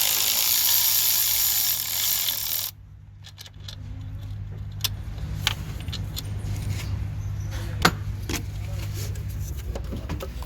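Ratchet working loose the alternator bolts on a car in a garage: after a steady whooshing start, faint clicks and metallic ticks spread across a low hum, sparse and close, with no talk over them.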